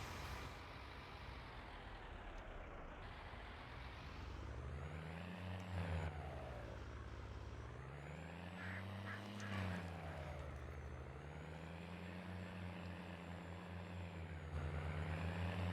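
A tractor disking a field, its engine droning steadily close by with slow rising and falling pitch swells as the load changes, running continuously without talk.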